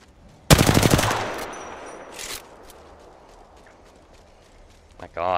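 An automatic gun fires a short rapid burst in the Apex Legends video game, then a second brief burst follows, with quieter game noise and faint steps in between and another sharp sound at the end.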